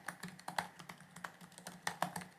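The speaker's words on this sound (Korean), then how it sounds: "타이핑을 잠깐 해보죠." Typing on the keyboard of an MSI Creator Z16 laptop: a quick run of light, close keystroke clicks in an uneven rhythm, with no talk over them.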